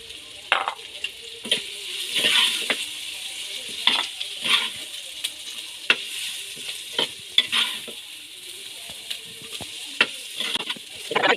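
Pounded garlic, ginger and chilli sizzle in a pan while a spoon stirs and scrapes in repeated sharp clinks over a steady frying hiss, with no talk.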